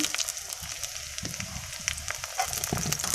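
Green chillies frying in hot oil in a pan, a steady close crackling sizzle with scattered sharp pops running throughout, no voices.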